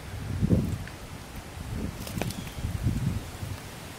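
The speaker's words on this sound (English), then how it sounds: "We still got a little rain coming in, some wind still blowing." Wind gusting with light rain during Hurricane Irma in Tampa, Florida, a soft low rumble of gusts buffeting the microphone and an umbrella, with faint rustling, fairly quiet and without speech.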